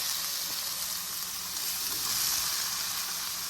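Green pepper sizzles and fries in a pot on the fire, a steady bright hiss of cooking that stays even and close throughout with no talking.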